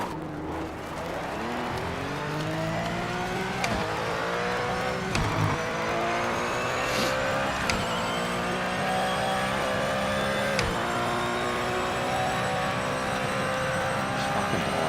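A Porsche race car in the Project Motor Racing sim drives hard, its engine note climbing through gears with repeated upshifts and brief drops, loud and close, with occasional clunks and tire noise.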